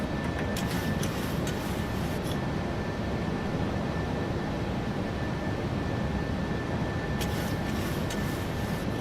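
Boeing 737-800 engine noise in a flight simulator game, a steady broadband roar heard continuously at moderate level, with a faint high tone and a few brief clicks, and no talking.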